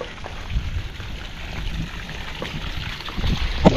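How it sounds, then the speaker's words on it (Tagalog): Water hisses and sprays from holes in a garden hose while watering on a farm, a soft uneven spatter with small gurgles and splashes, close by and fairly quiet throughout. "Mayroong butas yung hose dito."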